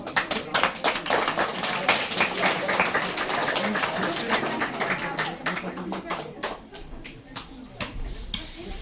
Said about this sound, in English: let us appreciate all our participants with a huge round of applause